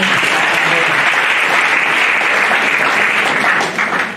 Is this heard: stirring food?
no